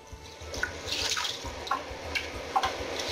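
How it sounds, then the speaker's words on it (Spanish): Water poured into a pressure cooker for braising lamb shoulder, a light splashing and dripping trickle with a few clearer drops, close by and without talk. "Le pondremos agua."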